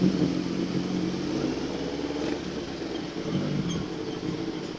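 A motorcycle engine hums steadily while riding along San Mateo Road, a low continuous drone mixed with road and wind noise, fairly loud and without talk.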